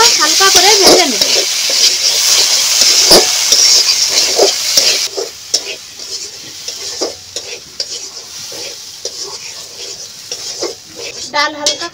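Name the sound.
lentils frying in a pan with turmeric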